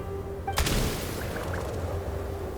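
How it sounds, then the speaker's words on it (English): Single gunshot in the video game Genshin Impact, a sharp boom that fades into a short rumbling tail over a faint background hum. "There's the gunshot."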